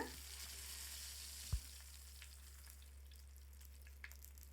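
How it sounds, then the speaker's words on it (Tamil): Kerala-style fish pollichathu parcels fry in a little oil in a pan over a medium flame, giving a soft, steady sizzle with one brief knock partway through. "அதே பேனை வந்து எடுத்துகிட்டு அதில் கொஞ்சமாக ஆயில் சேர்த்துட்டு இது வந்து ஃப்ரண்ட்லேயும் பேக்லேயும் ஒரு அஞ்சஞ்சு நிமிஷம் மீடியம் ஃப்ளேமில் வச்சு வறுத்து எடுத்துக்கோங்க"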